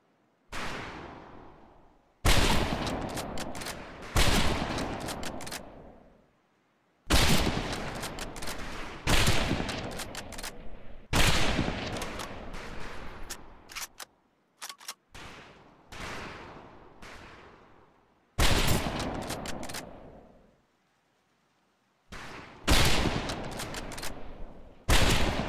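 Rifles fire on a shooting range in the video game Medal of Honor Pacific Assault. Sharp, loud shots come in repeated clusters and bursts, separated by short silences, with no talking.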